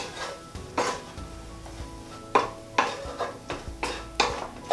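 Aubergine being stirred in a pan with a light coating of oil, giving repeated scraping clatters of utensil against metal in irregular bursts, close and fairly loud, with no talking.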